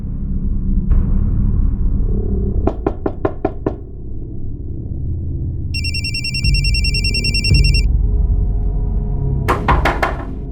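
A telephone in a Hindi TV crime drama rings with an electronic ringtone for about two seconds mid-scene, between bursts of rapid, sharp knocking near the start and end over a low background rumble.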